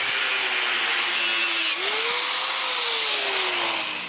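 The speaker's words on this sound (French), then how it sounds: "Je dois aussi couper 8 bouts de ce morceau plat." Power tool cutting eight pieces from a flat metal bar, a loud steady whine that dips briefly as the load changes and then resumes before tapering off.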